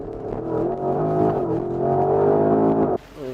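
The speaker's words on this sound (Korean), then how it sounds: "GPS 계측기를 통해서 시속 100km 가속 테스트 해봤는데요" A Porsche Cayenne Turbo GT with 673 horsepower launches hard toward 100 km/h in Sport Plus mode, its engine note climbing steadily and loudly from inside the cabin before a sudden gear change near the end.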